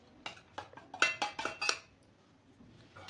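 Coloured sago papad batter being mixed in a bowl: a run of sharp spoon-on-bowl clinks and scrapes in quick succession, then a pause before a final clatter.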